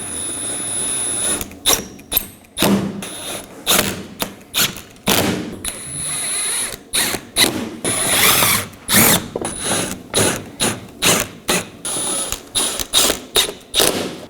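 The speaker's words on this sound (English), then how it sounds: "Now for our mudguard and its 4 7mm bolts. Just line it up and install your bolts." Bolts being run into a Chevrolet Equinox front mudguard with a ratchet, four 7mm bolts fastened one after another; a close, steady series of sharp clicking bursts with brief pauses between them and no talk.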